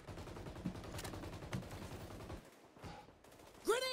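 Rapid gunfire from the shooter game XDefiant rattles through the first couple of seconds as sharp repeated shots, then gives way to quieter scuffling and a brief bright burst near the end.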